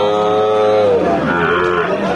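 A cow with her calf at a cattle market lets out one long, low moo, loud and close.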